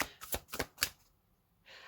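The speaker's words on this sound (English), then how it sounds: "I normally shuffle 3 times." Tarot cards are shuffled by hand in a few quick riffling bursts, close and crisp, followed by a brief quiet pause.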